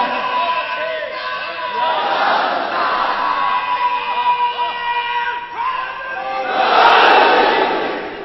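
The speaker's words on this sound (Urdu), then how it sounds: "جتنا دل کرے آل محمد کی عظمتوں کے نعرے لگاؤ" Crowd at a religious gathering raising devotional slogans in praise of the family of Muhammad, a loud massed chorus of shouts that swells and ebbs, with a big surge near the end.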